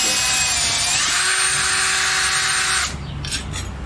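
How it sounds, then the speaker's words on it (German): A cordless drill with a 2 mm bit bores into a metal spoon, whining loudly and steadily for nearly three seconds before stopping, followed by a few faint clicks and handling noises. "Dazu braucht ihr den Akkubohrer mit einem 2 mm Bohrer und eine gute Oberfläche"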